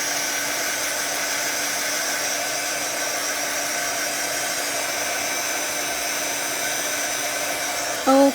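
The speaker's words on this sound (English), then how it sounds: "I think that's all the heat embossing we have to do" A heat gun runs continuously while heat embossing greeting cards, producing a steady, even blowing whir close by that cuts off abruptly at the end.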